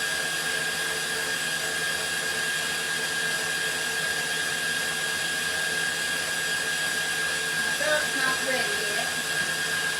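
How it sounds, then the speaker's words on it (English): An electric mixer whirs steadily in a kitchen while a syrup is being made for a cherry nut cake, running at a slightly raised speed as a continuous, fairly loud hum that never pauses across the whole stretch. "I turned my mixer up just a pinch."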